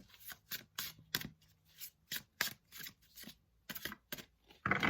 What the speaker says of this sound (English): The cards are a little bit more challenging to shuffle.